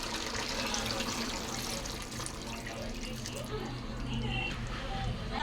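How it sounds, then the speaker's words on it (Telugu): Water is poured into a pot of chicken curry, giving a steady splashing, gurgling stream of liquid that runs for several seconds while a person talks over it. "కూరకు కూడా వాటర్ వేసుకున్నాం ఇప్పుడు"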